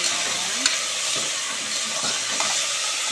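Cucumber pieces sizzle steadily in a hot pan while being cooked for a Mangalore-style cucumber masala sambar, a dense continuous frying hiss with a few soft stirring knocks, close and alone.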